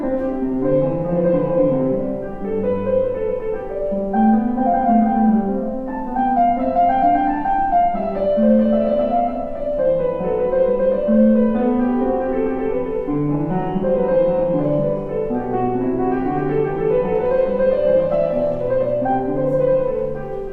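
Bach's Invention No. 1 played on a keyboard, two interweaving contrapuntal lines running in quick, even notes, steady and moderately loud with no talking.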